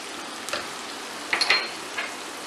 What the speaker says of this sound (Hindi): अच्छे से इसे मिक्स करेंगे और मसाले को 1 मिनट हम भूनेंगे